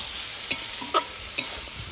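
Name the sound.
goat meat trimmings frying with spices in pan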